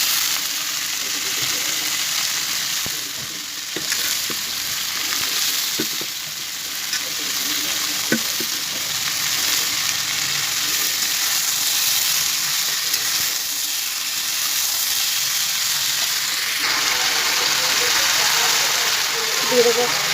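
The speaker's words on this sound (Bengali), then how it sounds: "এবার আমি দিয়ে দেবো বরবটিগুলো," Vegetables and yardlong beans fry in a pan with a steady, close sizzle and hiss that runs throughout, with occasional faint stirring clicks.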